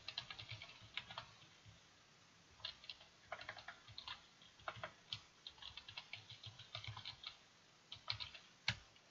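Fingers tap away on a computer keyboard in irregular bursts of quiet clicks, fairly close, with brief pauses between runs of keystrokes.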